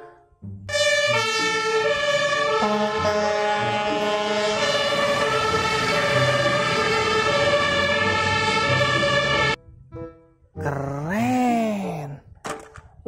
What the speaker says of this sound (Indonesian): Kalau yang ini adalah mobil pemadam kebakaran teman-teman.